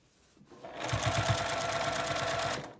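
A sewing machine edge-stitching the hem of a fabric drawstring bag, starting after a brief quiet moment and then running in a steady rapid stitching rhythm, close and clear, with no talk.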